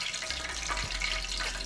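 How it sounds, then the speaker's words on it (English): A little splash of water hits hot frying grease before wings are dropped in, giving a soft, continuous crackling hiss with faint pops that holds steady throughout. "So I just tested the grease with a little splash of water. You can hear it sizzling."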